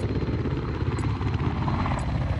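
Helicopter rotor thrum and engine drone from the Battlefield video game, a steady loud chopping wash that fills the whole stretch without a break.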